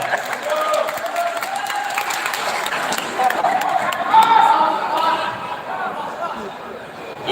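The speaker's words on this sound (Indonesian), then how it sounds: "Tepuk tangan untuk moderator." An Indonesian religious-lecture audience claps for the moderator, a crowd's applause mixed with murmuring chatter and a few chuckles, fairly loud and steady, swelling briefly in the middle before tapering.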